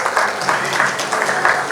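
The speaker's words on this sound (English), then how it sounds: "Want to applause?" A brief burst of steady audience applause at a conference fireside chat on ESG, a dense, even patter of clapping heard at moderate loudness.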